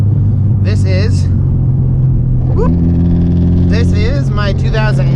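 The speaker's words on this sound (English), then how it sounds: "my 2009 Honda Civic Si. That's an fa5, of course." A 2009 Honda Civic Si FA5, full bolt-on with a Skunk2 Alpha header and Mega Power RR exhaust, rumbles steadily while cruising, its engine drone loud and constant as someone talks over it.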